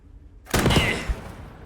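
Burst of gunfire aimed at a half-track's engine in the WWII shooter Squad 44, a sharp loud onset after near silence, then a rolling crackle of shots with a second thump before fading.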